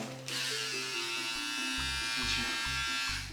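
Electric razor buzzing steadily and loudly, close up, while shaving a man's eyebrows, with its drone pulsing unevenly as it presses against the skin; voices speak over it.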